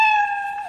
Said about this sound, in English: Cat's meowing, having a grand old time.